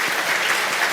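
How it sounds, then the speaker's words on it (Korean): A church congregation applauding to welcome children from the kindergarten, elementary and youth groups at a Sunday service: a brief, dense burst of clapping from many hands, steady and fairly loud. "우리 박수로 환영하겠습니다."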